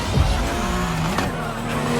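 A car in the racing game Need for Speed Payback surges on nitrous boost, a loud continuous engine roar with tire noise, steady and close without pause.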